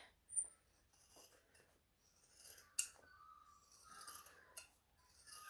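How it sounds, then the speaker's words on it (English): Scissors trim a fabric seam allowance at close range, a few soft, sparse snips and rustles separated by quiet gaps, one sharper cut standing out midway. "I'm actually going to trim my entire seam allowance down just a smidgeny bit"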